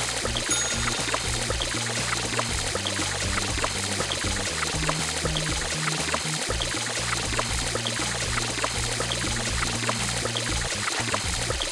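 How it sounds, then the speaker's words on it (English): Water pours steadily in a Lingokids hand-washing video game as soap is rinsed off hands, a continuous close splashing stream with a low game tune running underneath. "Now rinse off the soap."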